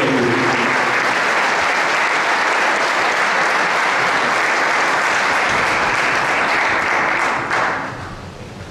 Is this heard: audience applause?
yes